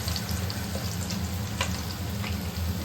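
Chopped onions frying in oil with cumin and nigella seeds give a steady, close sizzle with a soft crackle throughout, a few brief clicks of stirring rising above it.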